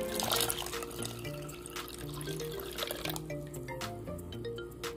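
Water trickles and drips into a bowl of grated cassava, a faint soft pour with light splashing, heard alone against low background music.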